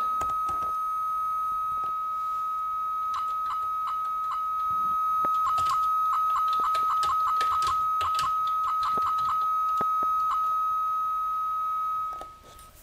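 A Novation CAT acoustic coupler modem transmitting: a steady high electronic tone runs throughout while rapid bursts of short beeping data chirps come and go, ending abruptly near the close.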